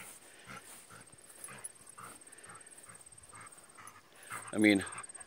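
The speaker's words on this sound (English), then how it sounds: "crazy dog." A dog gives a brief, high whine near the end, rising above steady rustling background noise.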